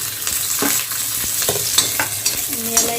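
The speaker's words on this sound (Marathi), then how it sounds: "त्यामध्येच आपल्याला लगेचच लसूण आणि मिरची घालायची आहे" Garlic and green chili fry in a hot pan, a close steady sizzle broken by several scraping stirs of a spatula, with no one speaking.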